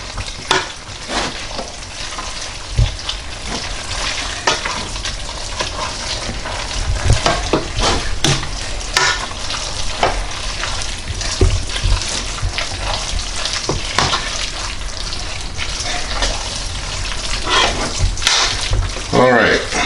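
Three-cheese macaroni and cheese stirred in a pot, a continuous wet, sticky churning with scraping and faint sizzle, close and steady, with a voice speaking over it at times.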